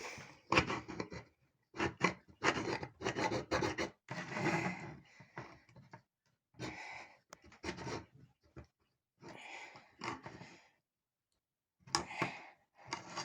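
An ordinary steel table spoon works around the rim of a tin can, giving repeated bursts of scraping, clicking and rasping metal strokes with short pauses between them, close up and fairly quiet.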